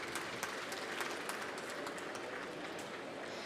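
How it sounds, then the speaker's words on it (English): A conference audience at the COP27 Africa Pavilion gives a round of applause. The clapping is fairly faint and distant, a steady wash of many hands with scattered louder claps and no speech. "Round of applause, please"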